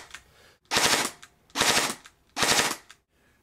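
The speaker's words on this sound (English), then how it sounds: "so I may now do my 3-round burst as soon as this light comes back" An airsoft gun fitted with a Burst Wizard mosfet fires three rapid three-round bursts, each a loud, dense rattle of shots separated by short pauses, close up with no talking.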